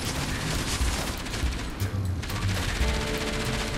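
Enemy gunfire in Enslaved: Odyssey to the West keeps up as dense, continuous shooting with rapid bursts and occasional heavier booms, sounding loud and close with no talk over it.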